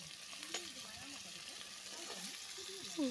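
Vegetables sauté in a pan for a fish fry and curry, giving a steady close hiss of frying with occasional stirring, while a voice talks or sings over it.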